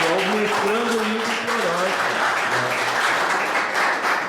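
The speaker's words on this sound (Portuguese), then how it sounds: "uma salva de palmas para ele, né?" An audience at a cultural showcase applauds the master's student Ivo Fiorotti, a dense, steady clapping that fills the clip, with a voice speaking over it in the first half.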